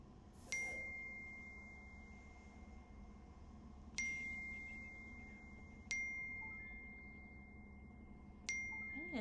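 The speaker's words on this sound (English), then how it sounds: "my phone is going off still" Mobile phone notification chimes ring out four times at irregular intervals during a rainy outdoor scene, each a sharp bright tone with a lingering ring, over steady background rumble.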